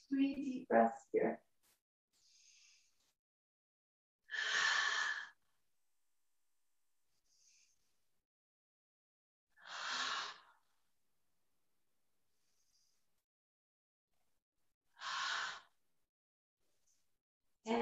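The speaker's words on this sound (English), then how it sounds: "So let's take 3 deep breaths here." Three slow, deep breaths during a yoga session in crocodile pose, each a soft airy inhale-exhale spaced about five seconds apart, close and alone in an otherwise quiet room.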